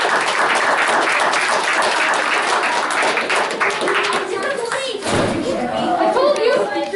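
Loud, continuous applause from families and students at a school DARE graduation ceremony, with chatter and children's voices mixed in and a brief thump near the end.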